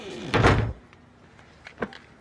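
A door bangs shut loudly and close in a Hindi film scene, a heavy thud with rattle, followed by quieter knocks and small movement sounds.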